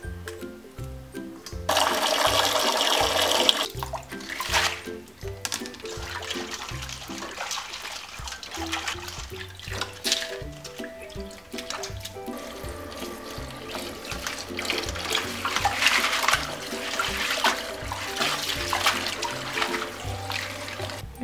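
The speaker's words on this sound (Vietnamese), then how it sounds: "Mình rửa qua với nước cho nó sạch." Small crabs (ba khía) are rinsed clean under running water in a sink. Water gushes and splashes loudly for a stretch, eases into softer trickling and rinsing, then swells again near the end.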